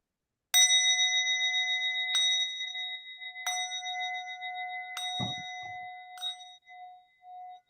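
A remembrance bell at a Transgender Day of Remembrance service rings five clear strikes, each a bright ding with a long ringing decay, evenly spaced, with a brief low thud between the later strikes.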